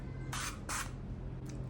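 Grand Tongo insect repellent sprayed in two quick close hissing bursts followed by a fainter third puff, over a faint low background hum.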